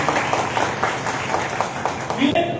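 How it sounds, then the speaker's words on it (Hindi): A crowd applauds at a political rally in Gujarat, a brief burst of rhythmic clapping with voices over it. "एक बार अपने लिए जो ताली सब लोग बजा लीजिए"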